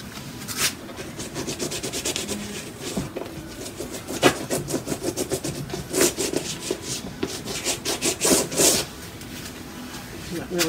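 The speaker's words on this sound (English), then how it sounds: "I want to try another tool, and this is a kitchen spatula." Kitchen spatula scraping and spreading acrylic paint across a canvas during an abstract painting session, giving close, uneven rubbing strokes in quick repeated bursts.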